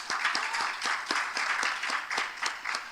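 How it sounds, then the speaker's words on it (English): A small conference audience gives a light, scattered round of applause as a speaker walks up to the stage, individual claps distinct and moderately close. "Give her a round of applause."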